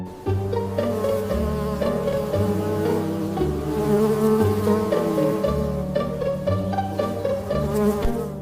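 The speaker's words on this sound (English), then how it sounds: "It was Buzzy, the bumblebee." An animated cartoon bumblebee buzzes steadily and close, its drone sustained and fairly loud with a layered tonal hum throughout, alone without speech.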